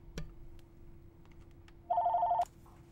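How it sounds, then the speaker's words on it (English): A telephone gives one short electronic ring, a burst of quick repeated pulses, in an otherwise quiet room, preceded by a faint click. "I had a phone call there for a second, if you heard that"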